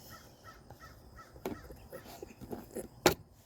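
A crow caws several times in a short, fairly quiet series, with a sharper, louder call near the end over faint background noise.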